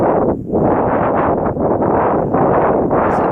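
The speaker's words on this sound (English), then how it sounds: "I think that's a northeast wind." Cold northeast wind blowing across a hilltop, a steady roaring buffet on the microphone that swells and dips throughout, loud and close with no other sounds.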